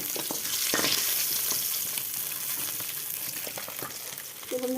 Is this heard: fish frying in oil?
yes